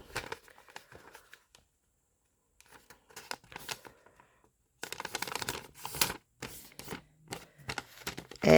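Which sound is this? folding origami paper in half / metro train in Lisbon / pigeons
folding origami paper in half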